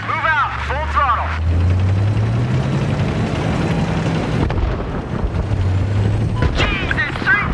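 A tank in Battlefield 3 surges forward at full throttle, a heavy, sustained engine roar and rumble close up, with radio-style voices talking over it at the start and end.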